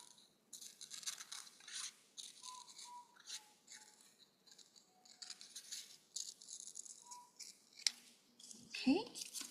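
Scissors snip a paper pumpkin print-out in a run of close, crisp, rasping cuts with short pauses, faint in level, with a soft voice underneath now and then.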